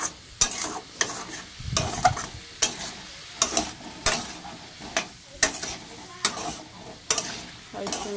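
Potato curry being sautéed on a high flame: regular scraping strokes of a spatula against the pan, about one per second over a soft sizzle, close and clear, with no talking.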